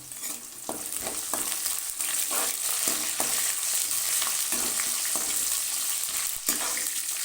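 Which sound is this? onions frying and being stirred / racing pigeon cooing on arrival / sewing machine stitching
onions frying and being stirred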